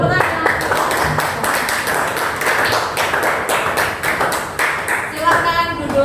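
An audience in a classroom claps steadily, with dense overlapping hand claps running for several seconds, close and loud, with a voice heard briefly near the end.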